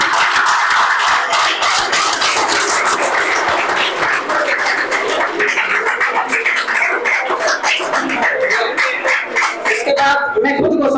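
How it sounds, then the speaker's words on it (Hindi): A crowd claps for a teacher at a National Youth Day celebration at PD Campus Hansi, with loud, continuous applause of many hands that keeps going for about eleven seconds and thins out at the end. "तो मैम के लिए प्लीज क्लैपिंग।"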